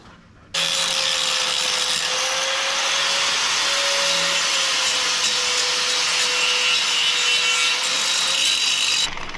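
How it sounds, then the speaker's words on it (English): An angle grinder cleans up metal before tack welding on a farm, a loud continuous high whine with grinding rasp that starts abruptly, holds steady for about nine seconds, then stops. "I'm just going to get the grinder, clean up, tackle weld."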